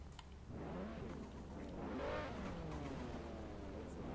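A car engine in a racing video game revs and accelerates, its pitch sweeping up and down several times, heard fairly faint and muffled with no talking.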